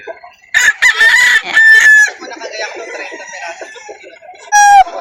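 Gamefowl roosters at a breeder's yard crow loud and close, several overlapping calls with some clucking between, followed by another sharp crow near the end.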